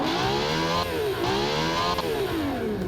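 Loud, continuous revving from a custom V12 in a car-building game, climbing higher in pitch through several rising and dipping sweeps with no voices over it.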